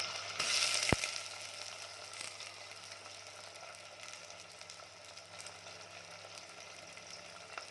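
Washed rice sizzles and fries in hot oil in a pan as it browns, a steady, moderately loud crackle with one sharp clink near the start.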